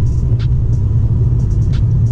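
A rebuilt 2002 Chevrolet Camaro SS on the move gives a loud, steady low engine and road rumble from inside the car, with a few faint ticks above it.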